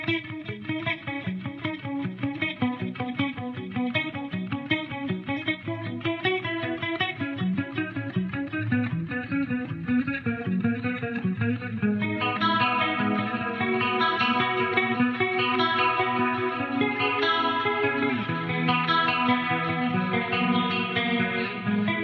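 Electric guitar plays a busy, repeating pattern through a stereo rack of chorus and distortion effects into a SYN 5050 power amp, thickening and brightening midway, with no voices.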